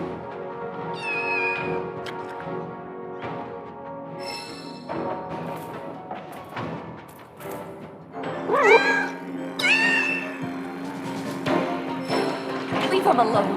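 A cat meows repeatedly in Final Fantasy 7 Rebirth while exploring Nibelheim, giving several drawn-out, wavering cries close up over a low game backdrop, growing louder and more insistent toward the end.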